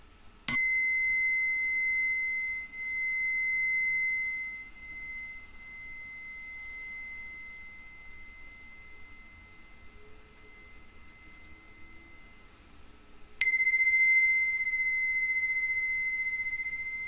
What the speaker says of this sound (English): So if you chose number 1, you got the singing bowl, right?